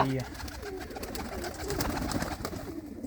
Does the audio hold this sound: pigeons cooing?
yes